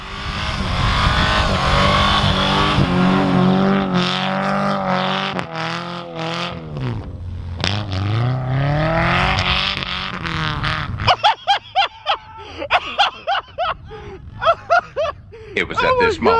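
A Subaru's engine revs and surges as the car slides around in snow, with rising and falling engine tones and loud voices over it, then sharp bursts of sound near the end.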